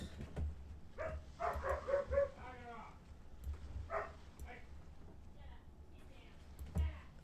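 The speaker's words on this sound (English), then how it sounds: "Dogs are freaking out." Dogs in the video game Dream Machine barking, yipping and whimpering in short bursts, moderately quiet, with a person talking over them at times.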